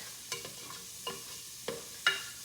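Onions and garlic cooking in a soup pot, a quiet low sizzle broken by a few sharp clinks and scrapes of a spoon stirring, with no talking.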